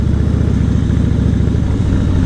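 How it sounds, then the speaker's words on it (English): Harley-Davidson Fatboy, second generation, with its twin cam engine running at a steady idle. The deep, loud rumble pulses evenly and sits close, with no talk over it. "this is the twin cam engine. Well, the engine sounds amazing."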